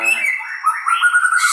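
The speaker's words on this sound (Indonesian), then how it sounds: "Burung murai batu memiliki suara merdu dan bulu ekor yang cantik" A white-rumped shama, the murai batu songbird, sings a bright, clear run of warbling, rising chirps and whistles. The song is loud and close with no talk.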